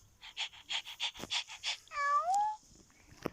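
A cat meows repeatedly in a quick series of short calls, then gives one longer drawn-out meow, fairly close, with faint household background.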